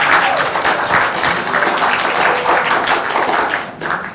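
Wedding guests applauding together at a resort reception, a loud, dense and steady round of clapping that fills the whole stretch, swelling slightly near the end.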